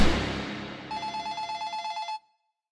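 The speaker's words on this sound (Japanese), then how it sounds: "何コールしても結局電話は繋がらなかった" A telephone rings in a rapid pulsing burst for just over a second, the call going unanswered until the ringing cuts off into silence; a brief noisy rustle comes before it.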